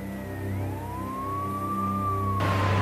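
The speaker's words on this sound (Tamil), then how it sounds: "சைரன் சவுண்ட் கேட்டு போலீஸ் ரீச் ஆகிட்டாங்க" A police siren wails steadily in the distance, its tone slowly rising and falling over a low rumble of traffic.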